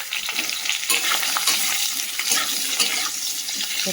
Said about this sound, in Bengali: এর মধ্যে এই যে আলু বেগুন কেটে ধুয়ে জল ঝাড়াতে দিয়ে দিয়েছিলাম, তো দিয়ে দিলাম।